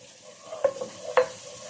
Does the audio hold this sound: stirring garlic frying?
yes